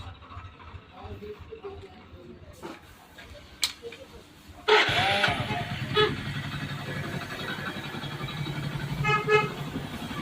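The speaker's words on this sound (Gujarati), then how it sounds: "હવે આ ગાડીને સ્ટાર્ટ કરાવું છું. તમે એનું ફાયરિંગ જોઈ લો." A repaired motorcycle engine, a second-hand Discover, is started by self-starter and fires up, a loud steady running rumble continuing after a few clicks and a short toot, close by with voices in the background.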